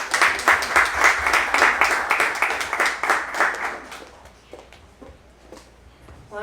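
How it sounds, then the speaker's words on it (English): An audience applauds at a tech careers talk, a burst of dense clapping that stays strong for about four seconds, then thins to scattered claps and fades. "Please give a round of applause for him and his team."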